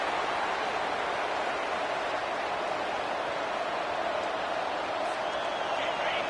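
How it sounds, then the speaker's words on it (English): Football stadium crowd roaring continuously at a steady loud level, a dense broadband wash with no breaks, fans pushing the home defense late in the game before the two-minute warning. "The roar of the crowd trying to fuel this defense to keep them pinned in their own end."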